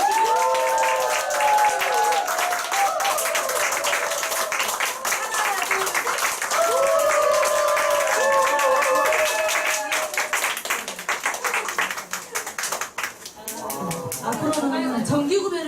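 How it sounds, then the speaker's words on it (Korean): Audience applause at an award ceremony for a group meeting, steady clapping filling the room throughout, with melodic tones and speech-like voices over it and a brief louder burst of voices near the end. "자, 다 같이 축하한 거 박수 한번 크게 주시고."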